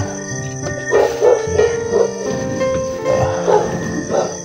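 A dog barks repeatedly in a rough rhythm, fairly close, over a background of engine or traffic drone.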